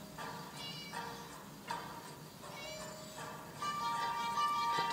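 A video game cat trapped in a shed meows repeatedly, several short mewing calls spread across five seconds over quiet game background sound, the later ones louder and more drawn out.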